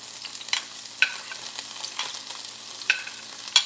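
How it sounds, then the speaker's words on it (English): Chopped vegetables and celery sauté in a skillet for West African red rice, producing a soft, fairly faint sizzle with a few light clinks and scrapes of stirring scattered through. "I'm going to put some of these veggies in this pan"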